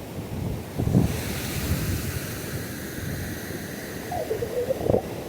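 Surf washing onto a beach with steady wind buffeting the microphone, a continuous broadband roar with a few louder gusts, no voices.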